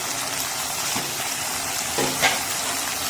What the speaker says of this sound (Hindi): मैंने प्याज डाल दिए थे, भूनने अच्छे से।